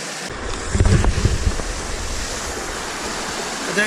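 A river flows past the bank as a broad, constant rush of water, with a brief louder rumble early on and wind-like hiss throughout, no talking.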